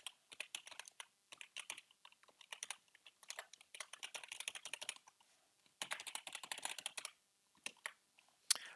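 Typing an email address and password on a computer keyboard while setting up encryption software on Windows: bursts of rapid, close keystrokes with short pauses between entries, no talking.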